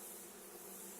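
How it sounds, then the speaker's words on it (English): Honey bees swarm over capped honey comb during a structural hive rescue, a dense faint buzzing drone lasting about a second. "there's just going to be a bunch of bees that are going to rush to that area"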